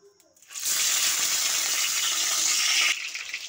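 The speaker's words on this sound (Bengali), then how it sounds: "পাতুরিগুলো আমি হালকা আঁচের মধ্যে আমি ভেজে নিচ্ছি।" Small chuno fish paturi parcels dropped into hot oil in a pan over low heat: a burst of steady, loud sizzling frying that starts abruptly, holds for a couple of seconds, then eases off.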